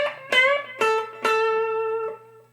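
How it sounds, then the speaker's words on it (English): Electric guitar lick from a country solo with two whole-step string bends: a few sharply plucked notes, each ringing and sliding up in pitch, the last one sustaining before fading, close and alone. "So they're both full step bends."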